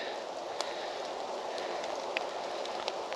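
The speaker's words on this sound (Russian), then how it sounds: "Так, дождь усиливается." Steady rain falling in an outdoor tulip garden in Crimea, a constant close hiss of drops with a few sharper splashes standing out here and there, no talking.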